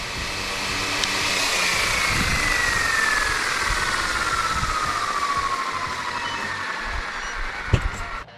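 The rotor of an RC Fly Wing AS350 Squirrel helicopter spins up for takeoff with a loud, continuous whirring drone and a shifting whine. It sounds close by, with a sharp knock near the end.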